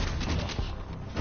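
Sustained gunfire in the sci-fi shooter Warframe, a dense, continuous stream of shots and booming impacts that fills the whole moment, loud and close, with no talking over it.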